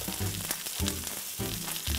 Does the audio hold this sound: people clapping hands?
no